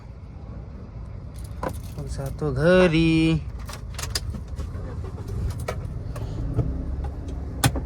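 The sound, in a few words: car being started and driven, keys jangling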